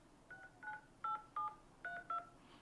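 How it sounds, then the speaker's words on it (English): Six short dual-tone beeps from an iPhone running iOS 18 as digits are typed on the keypad, spaced in an uneven tapping rhythm, clean and fairly quiet over a faint background hiss. "I'm just going to go ahead and type it on the keypad as it is"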